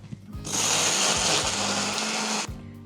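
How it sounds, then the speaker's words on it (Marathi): A mixer grinder whirs in one loud burst of about two seconds, blending garlic, roasted gram, dried grated coconut, tomato and coriander into a paste for a kala chana masala, with clicks before and after. "छान मिक्सरमध्ये फिरवून घेऊयात."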